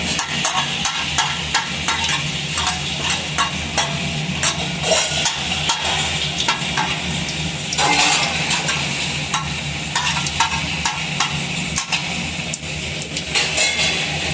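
Shahi jeera and whole spices frying in hot oil in a pan for a prawn fry, with a loud, dense sizzle and crackle alongside rapid scraping stir strokes throughout, close up, with no talking.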